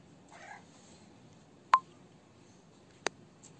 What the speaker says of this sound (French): Comme le bruit de ce téléphone.